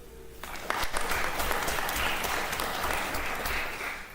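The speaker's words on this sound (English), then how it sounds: "They're clapping at home." An audience at a school board meeting breaks into applause that begins abruptly and holds steady as a dense, even clatter of many hands, moderately loud and slightly distant, thinning slightly near the end.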